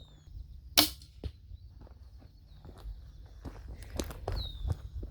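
A crossbow fires at a target 40 yards away, giving one sharp snap. A few fainter clicks and knocks follow in an otherwise quiet outdoor setting.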